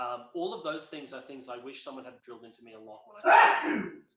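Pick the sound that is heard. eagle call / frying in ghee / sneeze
sneeze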